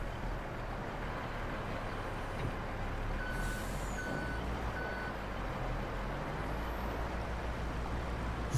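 A forklift in Farming Simulator 22 sounds three evenly spaced reversing beeps while loading, set over a steady low engine rumble.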